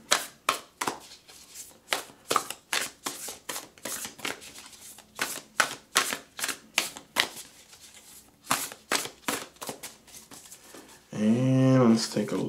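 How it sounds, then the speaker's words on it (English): Spirit Animal Oracle cards shuffled in a long run of rapid, rhythmic slaps and riffles close up, followed by a brief burst of a different tonal sound at the end. "Okay, we're going to shuffle."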